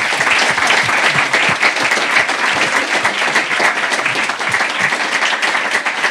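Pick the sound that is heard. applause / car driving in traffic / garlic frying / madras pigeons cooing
applause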